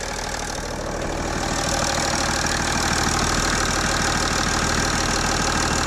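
A Ursus C-360 tractor fitted with a 1.6 BMC engine runs with its hood off, giving a steady, continuous idle with a close, even mechanical rumble and faint knocking throughout, with no talking.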